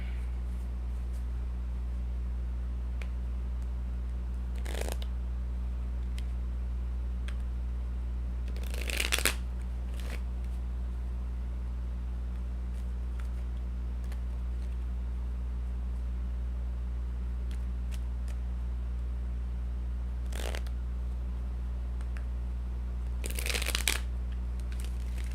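Tarot cards being shuffled in two short, soft riffling bursts against a steady low hum.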